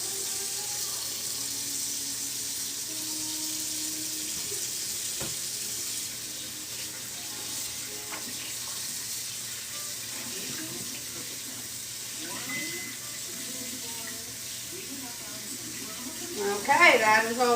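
Tap water runs steadily into a sink while tie-dye shirts are rinsed, a constant hiss with occasional splashes that grow busier near the end; a person speaks over it.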